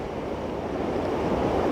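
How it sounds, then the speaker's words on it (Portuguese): Sea surf breaking against rocks near Leme Fort, a steady broadband wash of waves with wind noise on the microphone, continuous and moderately loud with no talk. "o mar batendo ali."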